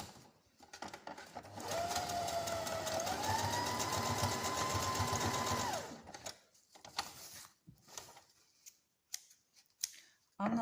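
A sewing machine stitches a straight seam on a fabric tote bag, a close, steady motor whir that rises in pitch and runs for about four seconds, then stops, followed by soft handling clatter.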